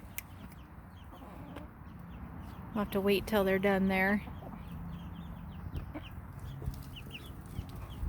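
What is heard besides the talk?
chickens clucking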